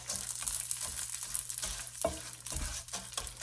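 Rice being stirred as it fries in olive oil for Spanish rice, a steady close sizzle with scraping stir strokes, no talking.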